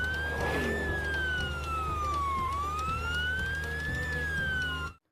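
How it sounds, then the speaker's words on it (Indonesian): A toy ambulance siren wails in one steady electronic tone that slowly rises and falls in pitch. It stays loud and close for about five seconds, then cuts off abruptly. "lihat teman, yang ini mobil ambulan."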